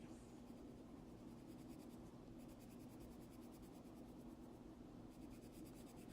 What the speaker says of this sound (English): to make it show up a little bit better, I took a brown pencil